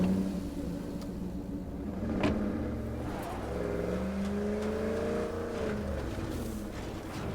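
Truck driving in the State of Decay 2 video game, a low, continuous engine rumble with a rising rev partway through, steady and moderately loud with no talking.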